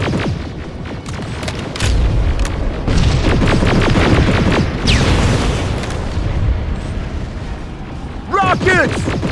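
Rocket explosions in the Terminator: Resistance video game, a run of loud booming blasts and rumbling bursts over a dense battle din, with shouting voices and sharp chirping effects breaking through near the end.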